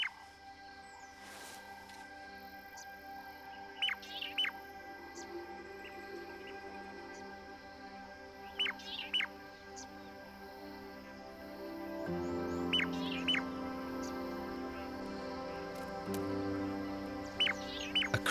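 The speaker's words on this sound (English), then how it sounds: "crimson-breasted shrike." A pair of crimson-breasted shrikes sings a dawn duet, with sharp chirping calls repeated every few seconds over soft outdoor ambience.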